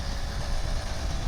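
A Kawasaki Ninja RR 150 motorcycle engine runs in a loud, steady drone close by, with no clear rise or fall in pitch across the short stretch.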